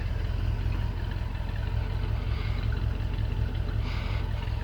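A Ford FE V8 engine in a 1964 Ford idles steadily close by, a low, lumpy rumble with light mechanical clatter throughout.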